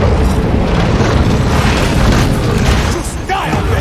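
A torpedo explodes in the shark video game Maneater, a loud, sustained, rumbling blast that fills the whole stretch, with a brief dip near the end before the roar resumes.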